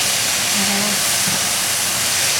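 Lamb meat and onion sautéing with Chinese sauce and Arabic seasoning, a loud steady hiss and sizzle throughout, with a brief faint tone near the start and no voices.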